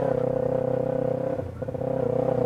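A Kawasaki Ninja 250R motorcycle with 30,000 km on it is ridden at an easy pace, its engine humming steadily up close, dipping briefly then picking back up.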